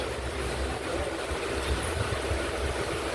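A moving passenger train rumbles steadily with broad, continuous noise and faint rhythmic clatter, heard from inside on a rainy day with no talk.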